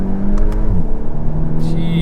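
A 300 hp VW T-Roc R accelerates hard, its engine note climbing and shifting under a steady road drone, with a voice speaking briefly over it.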